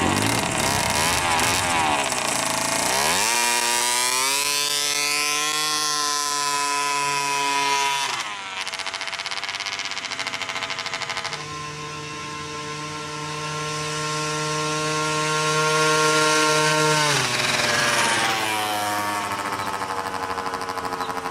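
A small moped engine, such as a 49cc Yamaha Vino scooter, drones and revs up and down in a buzzing whine, with steady loud running broken by several throttle rises and drops.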